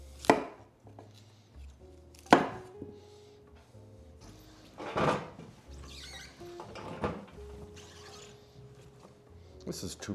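A knife chops a whole head of cauliflower into florets on a board in a home kitchen, giving several sharp, irregular thuds spaced a second or two apart, with a voice talking faintly in between.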